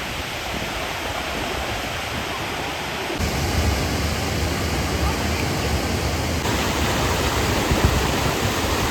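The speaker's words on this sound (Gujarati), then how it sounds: "નીચેથી આ ત્રણે જે વોટરફોલ પડે ને આ કુંડના" Three waterfalls pour into a village pond in Gujarat, making a loud, continuous rushing roar that swells slightly louder partway through and stays steady to the end.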